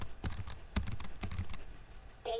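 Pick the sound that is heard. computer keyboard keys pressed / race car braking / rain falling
computer keyboard keys pressed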